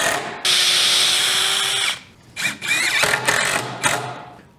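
A power drill whines steadily for over a second as it pre-drills into a 2x4 wood piece, then several shorter bursts of drilling follow, close and loud.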